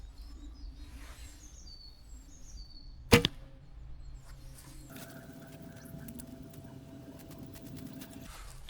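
A single sharp arrow release from a refinished Bear Grizzly recurve bow at about three seconds, a brief loud snap over quiet room noise, followed later by a steadier hum and rustle.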